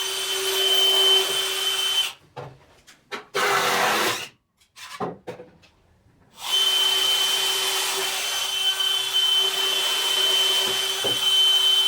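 Impact driver sinking 3-inch exterior deck screws into wood for a compost bin, loud sustained whirring bursts broken by two short pauses, close by with no talking.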